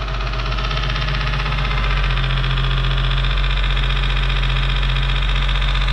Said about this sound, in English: Here's that VQ though, running well.